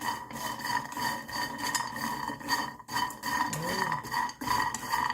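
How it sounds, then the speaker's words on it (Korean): Ramen snack pieces roast in a dry pan with no oil, making faint, irregular scraping and light clattering as they are stirred and shifted about. "구워지는 소리가 들리나요?"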